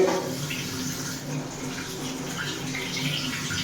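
Tap water runs steadily while tomatoes are washed in a home kitchen, a continuous broadband splash that stays fairly even throughout, with no talk over it.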